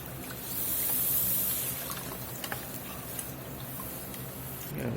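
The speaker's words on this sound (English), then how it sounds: "We're going to go in with beef broth." Beef broth poured into a hot pan of roux for gravy, a steady trickling pour with a brief louder surge early on, close, no talking.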